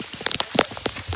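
Rain pattering on the ground during a monsoon climb of Rasalgad fort in the Sahyadri hills, a short burst of soft, scattered drip-like taps.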